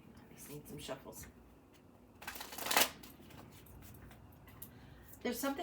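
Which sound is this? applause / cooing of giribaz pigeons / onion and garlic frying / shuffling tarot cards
shuffling tarot cards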